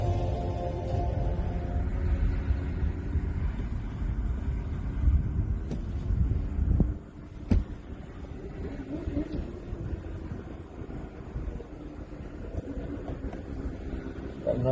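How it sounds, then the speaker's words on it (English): A couple of motorbikes pull up nearby, their engines rumbling at idle and shifting under outdoor wind noise, with a sharp knock partway through. "Got a couple bikes pulling up."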